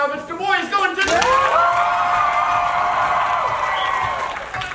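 A seniors-versus-alumni match audience votes with a loud burst of applause and cheering that rises sharply after a moment of talk, then holds steady as a dense roar of clapping and shouted whoops.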